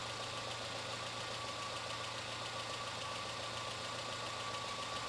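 A methane gas-powered car engine idles at low speed, a steady, even hum with a constant low drone and no variation in level, heard alone and fairly faint.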